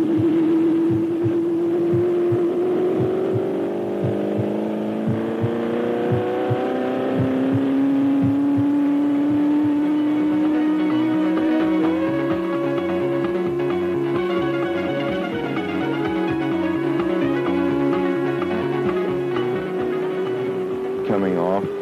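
A 1973 Gulf McLaren Indianapolis 500 race car screams at full throttle during carburation testing at the speedway, its loud engine note climbing steadily and holding high, briefly easing before surging again.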